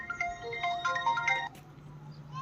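A mobile phone ringtone plays a short electronic melody of bright repeated tones, heard nearby for about a second and a half before cutting off into quiet background.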